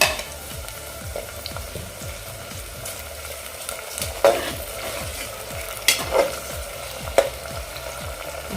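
Tomatoes stirred into a pan of frying masala rice made with black ghevda beans, giving a steady sizzle under repeated scraping stir strokes, with a few louder clinks of the spoon against the pan.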